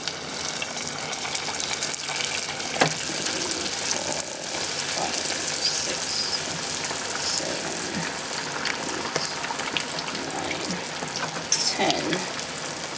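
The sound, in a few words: spring rolls frying in hot oil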